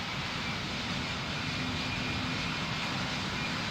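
An airplane taking off in the Roblox game Pilot Training Flight Simulator makes a steady, dense engine roar, loud and close across the whole short stretch with no voices over it.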